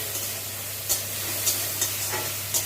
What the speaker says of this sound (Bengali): আদা রসুনের পেস্টটা দিয়ে একটু নাড়াচাড়া করে